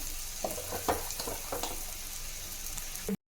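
Boiled pasta goes into a pan of frying tomato and vegetables, giving a soft continuous sizzle with a few clattering stirs and scrapes, fairly quiet and close, ending abruptly.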